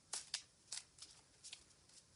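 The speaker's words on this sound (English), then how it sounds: "One more shuffle." Several quick riffling bursts of tarot cards being shuffled, close and fairly quiet, in an uneven rhythm with short pauses between.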